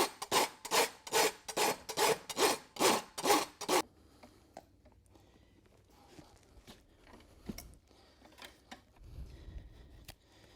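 A farrier's rasp works a horse hoof, bevelling the inside edge of the wall, with about ten steady, loud, regular strokes. Quieter scraping and light handling noises follow.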